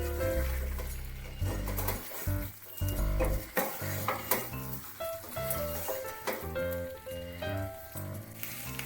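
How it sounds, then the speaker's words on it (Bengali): Chicken and fried potatoes are stirred and sautéed together in a pan, giving a steady sizzle with scraping stirs underneath prominent background music. "আলুগুলো দিয়ে চিকেনের সাথে ভালো করে মিশিয়ে আরও কিছুক্ষণ কষিয়ে নেব।"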